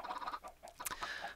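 Minecraft chickens cluck in short, choppy bursts, several quick calls close together, fairly quiet and without any talking.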